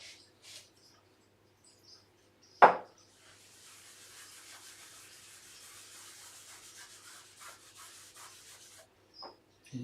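A rag rubs finish into raw timber on a sewing table, a soft, close, steady scrubbing swish lasting several seconds after a sharp knock, with a few faint clicks around it.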